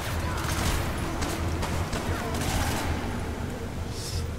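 Sustained bursts of MP4 submachine gun fire in the top-down shooter Hatred, dense and continuous at close range, with faint background noise and no pauses.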